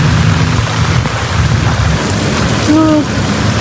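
Heavy rain pours steadily in the Maldives, with a deep rumble of thunder rolling underneath and a faint tonal whine near the end, loud and continuous throughout.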